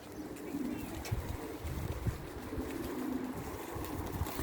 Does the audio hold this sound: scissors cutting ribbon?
no